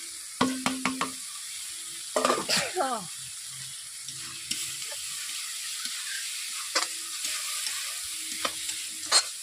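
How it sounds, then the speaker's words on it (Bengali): Spice masala for bhindi masala, with ground coriander and cumin, is fried and stirred in a pan. A faint steady hiss runs throughout, broken by short scraping strokes and a few brief tonal chirps. "এইভাবে আমি মশলাতে 5 মিনিট সব উপকরণ দিয়ে 5 মিনিট এইভাবে আমি মশলাগুলোকে কষে নেব।"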